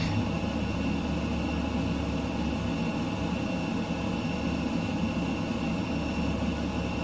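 A steady, loud jet roar from an F-15EX flying low through Star Wars Canyon in Microsoft Flight Simulator 2020. The engine drone holds unbroken and close, with no talking over it.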